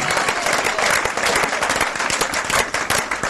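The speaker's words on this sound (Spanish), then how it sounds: "Démosle un aplauso al Señor, hermano, esta mañana." Steady applause from a church congregation, dense and continuous clapping throughout, fairly loud and close.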